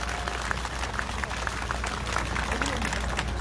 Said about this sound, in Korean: 박원철 총괄 본부장님께 뜨거운 박수 다시 한번